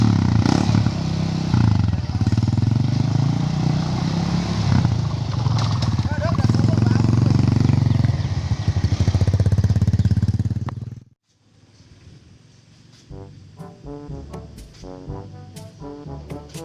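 Old motorcycle engine running steadily and loudly for about ten seconds with a rough, chugging idle, then cutting off abruptly, after which people talk.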